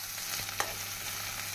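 Soft, steady sizzling of chopped onions and garlic frying in hot oil for tomato kulambu, with a few faint clicks of stirring, close and quiet with no voices.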